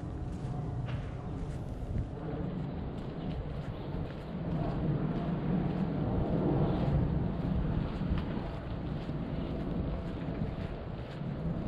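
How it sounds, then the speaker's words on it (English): Steady wind buffeting the microphone on a breezy day along a Bronx street, a continuous low rumble with gusts rising and easing, no talking. "And a windy, breezy day too as well."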